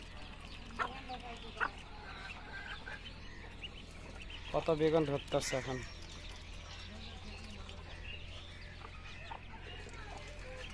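Free-ranging chickens and chicks released in the morning around a village vegetable garden, clucking in short scattered bursts with a louder cluster midway, mid-distance, under a person's talking.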